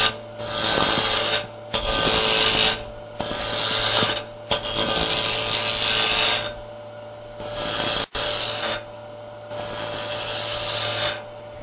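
A gouge cutting into a spinning pine 2x4 on a wood lathe while a toy car is turned, loud harsh scraping bursts of a few seconds each, separated by short pauses, with a steady motor hum underneath.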